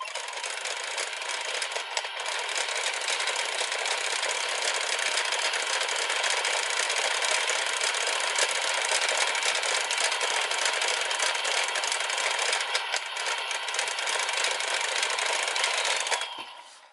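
A DX Geartlinger toy gear spins rapidly, making a continuous close whirring rattle that holds steady for many seconds before winding down at the end.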